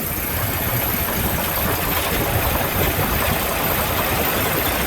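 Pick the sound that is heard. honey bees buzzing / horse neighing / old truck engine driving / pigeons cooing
old truck engine driving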